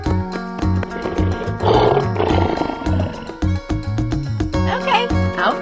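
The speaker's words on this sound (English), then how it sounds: "Lion." A lion roar in a children's animal transformation cartoon, heard amid busy background music, with a loud growling burst partway through and voices nearby.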